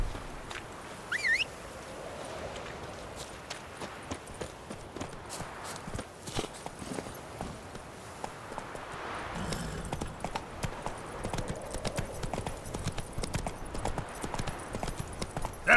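Roach the horse trots in The Witcher 3 video game, a steady run of hoof clip-clops with bird and fowl calls in the background. The pace is even and close throughout.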